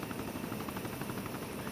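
A military helicopter in an Operation Desert Storm video game gives a steady, dense rotor and engine drone that fills the whole stretch at an even, moderate level.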